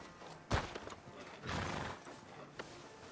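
In a video game, a horse whinnies and its hooves clop, quiet and somewhat distant: a sharp whinny, then a longer neigh and a few scattered hoof sounds.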